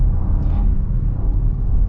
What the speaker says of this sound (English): I like the sounds you get with the V6.